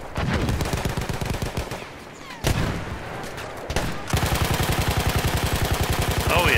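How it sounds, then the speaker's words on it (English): Rapid automatic gunfire in the shooter game Battlefield 1, dense bursts of loud shots with brief pauses, then a steady sustained rattle of rounds near the end. "Oh yes, I'm shooting like everywhere but where he is"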